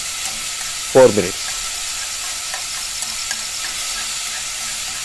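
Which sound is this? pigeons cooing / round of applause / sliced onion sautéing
sliced onion sautéing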